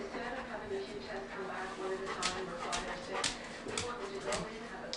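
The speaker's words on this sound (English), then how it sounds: "Mind my dog. He's waiting for a ball." A dog whimpers and yips in short bursts while waiting for a ball to be thrown, close by and moderately loud, mixed with background talk in a room.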